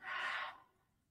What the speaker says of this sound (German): Tief atmen.